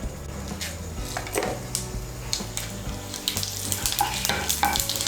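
Bay leaf, a dried red chilli and whole cumin dropped into hot oil, crackling and sizzling steadily with repeated clinks and scrapes of a utensil against the pan, close and busy.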